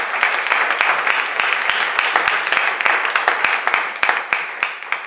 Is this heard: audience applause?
yes